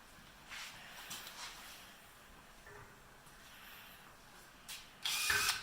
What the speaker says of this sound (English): we are going to drill into the bolt, and then we're going to try and cut it in half